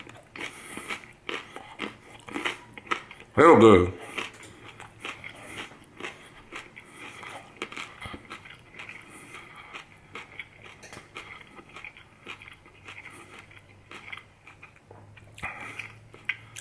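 Close crunchy bites and chewing of BBQ chicken with leaf cactus, one sharp loud bite then quieter intermittent mouth noises, with brief talk.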